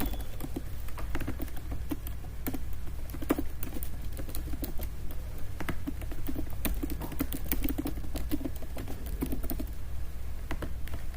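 Rapid, irregular clicking of a computer keyboard as form details are typed in, continuous light key taps at close range with no voices.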